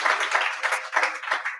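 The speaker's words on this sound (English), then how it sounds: "Everyone give Tommy a round of applause" Audience at an annual walking-advocacy celebration clapping for a speaker, a moderate, fairly close patter of many hands that swells and dips briefly in short bursts.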